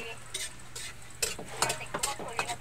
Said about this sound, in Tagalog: Halo sa kawali ah.